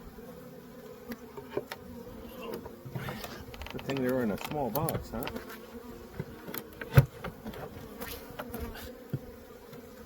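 A steady, droning buzz of many honeybees close by in an opened hive during a mid-winter check, with a person speaking briefly over it and a few handling knocks.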